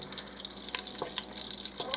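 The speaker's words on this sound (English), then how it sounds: "you're going to cook your onions and your garlic in here" Onions and garlic fry in a hot pot for soup, a steady close sizzle with a few soft scrapes and stirs cutting through.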